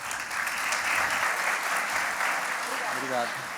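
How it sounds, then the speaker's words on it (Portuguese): A crowd applauds steadily, a dense wash of clapping that holds throughout, with a voice starting to speak near the end. "Uma salva de palmas."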